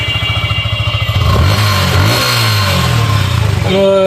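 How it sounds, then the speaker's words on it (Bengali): A used self-start motorcycle's engine runs close by, with a throbbing idle putter that rises into a loud rev, then drops back to a rough idle. "গাড়িটা একটু স্টার্ট দেন দেখি"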